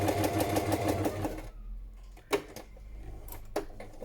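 Sewing machine stitching a messy journal cover, running fast with a steady rapid mechanical chatter for about a second and a half, then stopping, followed by a few quieter clunks and handling knocks.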